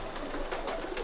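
Pigeons or doves cooing softly at a moderate distance, a steady low murmur of calls lasting about a second with no voices present.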